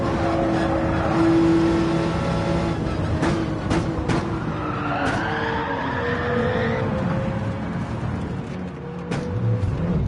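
Race car engine in a racing video game, a steady loud drone with skidding tire noise and shifting engine pitch as the car slides on gravel, no talk.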